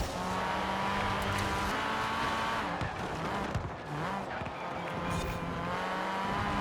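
Race car engines roar steadily in Forza Horizon 4 with an Alfa Romeo close behind, the sustained drone layered with tire squeal and skidding through corners.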